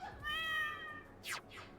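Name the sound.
cat meowing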